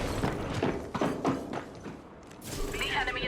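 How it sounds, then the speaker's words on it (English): In the Apex Legends video game, a jump drive is tossed, producing a few mechanical clicks and thuds with clattering game effects that flare up again near the end. "Tossing jump drive."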